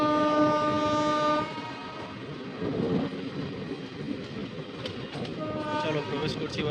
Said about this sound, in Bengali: আর ওদিক দিয়ে ট্রেন যাচ্ছে দেখাচ্ছি